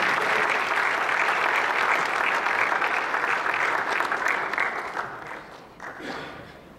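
A concert audience applauds a band with a full, steady wash of clapping that thins and fades toward the end.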